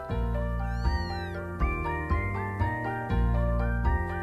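A five-week-old kitten meows repeatedly and insistently, several drawn-out rising and falling cries in quick succession, loud and close, with no voices.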